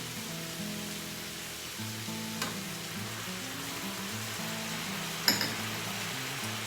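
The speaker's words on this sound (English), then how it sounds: "Let those saute a little bit." Leeks, other vegetables and edamame sauté in a pan with a steady, hissing sizzle, broken by a couple of sharp clinks of a utensil against the pan, with no talking.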